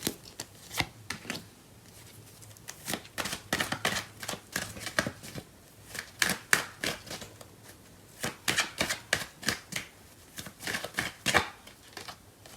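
Tarot cards being shuffled by hand, a close, quiet series of quick riffling flutters and soft slaps in irregular bursts, with short pauses between and no talk.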